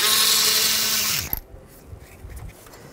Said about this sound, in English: Now I'll take this bolt out,